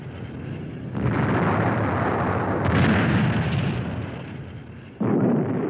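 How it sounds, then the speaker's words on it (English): Artillery shells exploding amid return fire at Khe Sanh during the Vietnam War, heard as a continuous roar of heavy, rumbling blasts that surge at intervals and then give way to a fresh loud burst near the end. "For every incoming shell, the Marines shoot several back."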